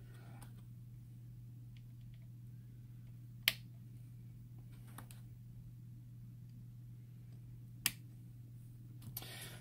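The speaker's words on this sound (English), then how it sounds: "push down till it clicks into place" Push-fit antennas snap into place on a WAM 108T, giving two sharp, isolated clicks several seconds apart over a quiet, steady electrical hum.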